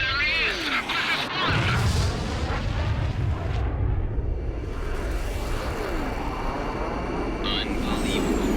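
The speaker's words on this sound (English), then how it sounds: "He destroyed that entire fortress." A huge fortress explodes in the Ace Combat X flight game, a dense, sustained roar of rumbling blasts and booms with jet-engine whine layered over it, loud and continuous, while voices shout over the din.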